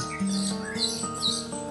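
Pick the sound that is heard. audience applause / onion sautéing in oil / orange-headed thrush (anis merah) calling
orange-headed thrush (anis merah) calling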